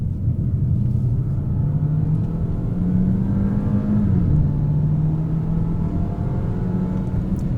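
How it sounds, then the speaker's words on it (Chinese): Steady engine drone with a rising then settling tone as a 2024 Peugeot 408 GT car accelerates, heard from inside the cabin; continuous rumble at a constant level, no talking. "加速。"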